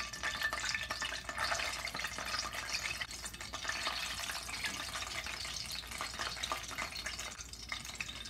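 Cornbread patties frying in hot canola oil in a cast iron skillet give a steady, fairly quiet sizzle with fine crackling and popping that continues without break.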